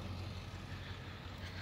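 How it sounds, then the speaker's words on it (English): A truck engine idles a short distance away, a steady low rumble holding level throughout with a faint broadband hiss above it, no voices present. "You hear my truck over there."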